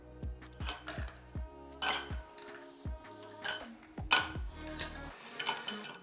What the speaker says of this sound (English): Add our ice, so we're going to stir this down.